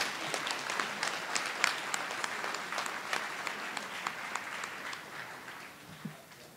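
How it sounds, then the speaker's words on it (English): Fairly quiet, distant applause in a school board meeting room for twelfth-grade students, steady clapping with a few sharper individual claps standing out, gradually tapering near the end. "big round of applause for all the 12th graders up here"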